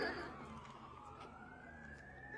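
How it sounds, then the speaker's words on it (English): A siren wails somewhere across Brevard County, its tone sweeping slowly upward, faint and distant over a low steady background hum. "There is a siren call across"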